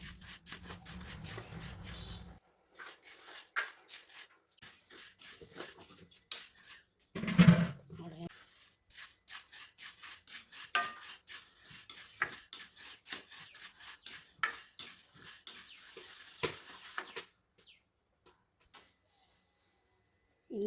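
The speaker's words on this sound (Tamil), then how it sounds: "ஒரு கடாயில் உளுந்து போட்டு நல்லா வாசனை வர அளவுக்கு வறுத்துக்கணும்" Urad dal dry-roasting in a kadai, grains rustling and scraping under a spoon in irregular bursts of stirring with quiet pauses between, close and fairly soft, with brief speech near the start.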